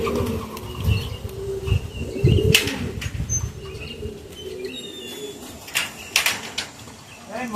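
Snow-white homing pigeons, young birds at a pigeon show and sale, burst into repeated bouts of close, loud wing flapping, with soft coos and chirps between them and faint voices in the background.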